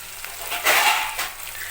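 Tomatoes drop into a small well in a hot pan and hiss as they fry, a short burst of sizzling that swells and then settles.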